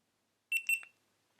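A short electronic beep sequence from a GoPro Hero 8 Black powering on, a couple of quick high-pitched tones followed by a brief descending chirp, clear and close, then silence.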